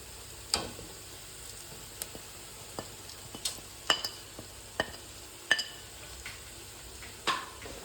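Spice powders stirred and sautéing in a frying pan, a low steady sizzle broken by sharp scraping and tapping clicks of a spoon against the pan at irregular intervals, close and alone.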